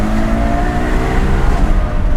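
A Ferrari FF engine revs hard, its deep, steady, harmonic exhaust note sustained loud and close for a couple of seconds without any talk.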